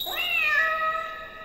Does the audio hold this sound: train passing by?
no